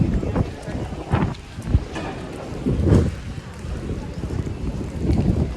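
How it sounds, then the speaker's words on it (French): Gusty stormy wind with rain in Dubrovnik, Croatia, rushes and thumps against the microphone in uneven bursts, with faint voices mixed in beneath the roar. "Dubrovnik sous la pluie"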